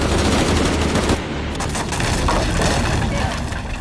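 Dense, loud sustained gunfire in Shadow of the Tomb Raider, a continuous rattling barrage of shots filling the whole moment with a brief dip partway through; voices are present amid the shooting.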